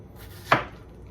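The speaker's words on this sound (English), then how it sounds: "You cut the big pieces into smaller pieces, throw them into the blender" A single sharp knife chop through a watermelon on a cutting board, one crisp close thunk standing alone against quiet background.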